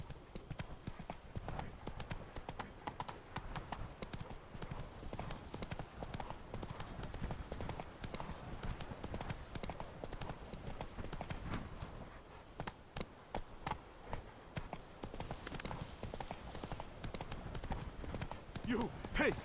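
Roach the horse ridden in The Witcher 3, a steady rhythmic clip-clop of hooves throughout at moderate distance, with a voice talking over the riding.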